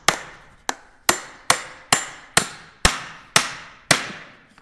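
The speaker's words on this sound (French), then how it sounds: "On plante le premier clou." Hammer blows driving a nail into a wooden 2x4 board, nine sharp, loud, evenly spaced strikes ringing out close by, with no talking.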